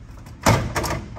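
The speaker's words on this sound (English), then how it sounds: "open an accordion style door, then I can get out this teeny tiny little door here" An accordion-style door on a 24-foot double-decker pontoon boat folds open with a sharp clattering burst followed by a second softer rattle, close and moderately loud.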